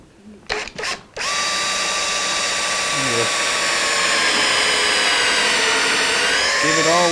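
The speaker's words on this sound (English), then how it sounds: "And we can drill even deeper." After a few brief knocks, a power drill spins up and whines steadily and loudly, its pitch dipping slightly as it bores deeper into wood.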